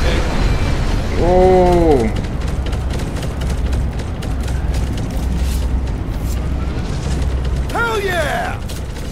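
Rocket explosions in the Guardians of the Galaxy video game sound as booms mixed with whirring mechanical effects and rising tonal sweeps. A player briefly exclaims over the game audio.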